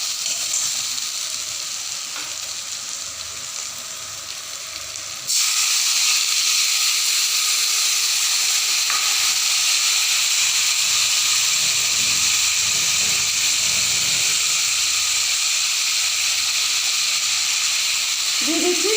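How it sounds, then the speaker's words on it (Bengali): Water poured onto frying potatoes in a pan, cooked with dried Chandana fish, sets off a sudden loud, hissing sizzle that jumps up partway through and keeps steaming steadily to the end. "তো এখন আমি এতে দিয়ে দেব জল।"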